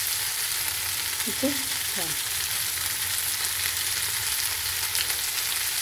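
Salted vegetables frying in a pan give a steady, even sizzle throughout, with a brief stir or scrape of a utensil early on; a voice speaks briefly.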